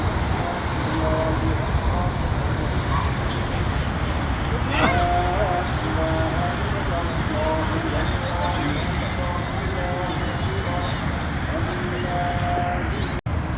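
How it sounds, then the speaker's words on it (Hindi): Motorway traffic roars steadily behind roadside bushes in High Wycombe, UK, making a constant broadband hum while someone talks over it. "गाड़ियों का जो शोर यहाँ पे आपको महसूस हो रहा है"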